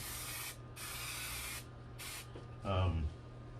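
Several bursts of aerosol spray gesso hissing close by onto canvas, separated by short pauses, followed by a brief low thump.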